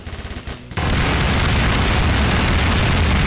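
Pistol fire in the video game Garry's Mod breaks out suddenly after a short pulsing lead-in, then continues as a loud, dense, rapid barrage of shots that fills the rest of the moment.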